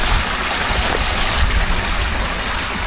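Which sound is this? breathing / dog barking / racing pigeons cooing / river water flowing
river water flowing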